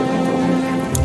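Steady rain-storm sound effect in a children's story, a soft continuous patter of rain with a faint low hum beneath, heard alone without voices.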